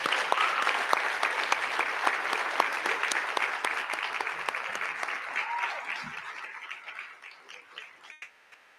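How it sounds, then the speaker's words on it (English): Sustained applause from the audience at a school board of trustees meeting, dense clapping at steady volume that thins and fades out over the last few seconds. "Let's give them all a huge round of applause."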